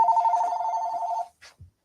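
A telephone rings with one long, loud electronic trill that stops abruptly, followed by a couple of brief clicks and then quiet, with no talking.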